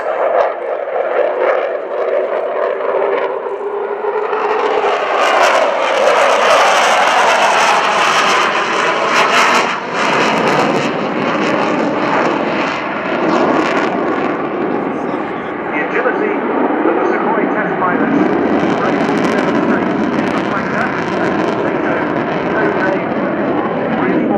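A jet aircraft flying a display at the RIAT 2018 airshow at Fairford, its loud sustained engine roar swelling and shifting as it passes, with a voice talking over it throughout.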